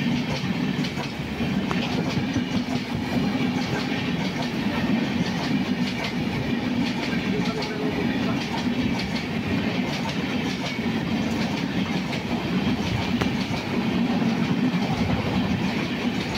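A sleeper class passenger train runs on rails between Madurai and Kollam, giving a steady, continuous rumble with faint rhythmic clickety-clack from the wheels throughout, heard from inside the coach with no talking.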